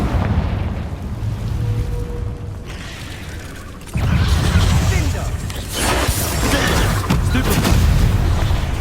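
Confringo blasting spell in the Hogwarts Legacy video game, a loud booming explosion that bursts in partway through and rumbles on with crackling debris over a continuous game background.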